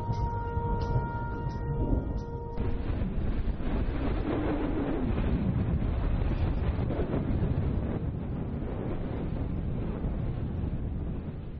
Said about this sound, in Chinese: 突然遭遇一阵狂风的袭击